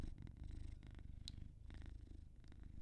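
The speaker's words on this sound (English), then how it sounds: "Enjoy the cat noises." Cat purring up close in a rhythmic, low rumbling cycle of inhale and exhale pulses, quiet and steady with no voices over it.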